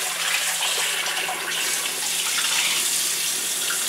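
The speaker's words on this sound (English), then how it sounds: "And I'm gonna wash this rice." Rice being rinsed under a running kitchen tap while preparing arroz con garbanzos, a steady close hiss of flowing water that continues without a break, with no talking.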